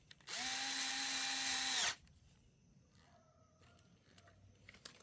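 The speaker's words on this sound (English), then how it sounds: "now I'm gonna tighten this bolt more." A power drill or driver tightens a bolt on the sprocket of a CYC X1 Pro Gen4 e-bike motor, one steady high whine lasting about a second and a half, close and loud, followed by quiet handling noises.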